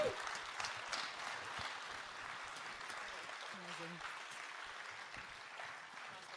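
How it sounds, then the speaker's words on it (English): A room full of people applauds Dave, steady clapping lasting throughout, with a brief spoken word from a voice partway in. "Why don't we give him a round of applause for sharing so well."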